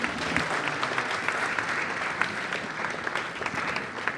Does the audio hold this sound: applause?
yes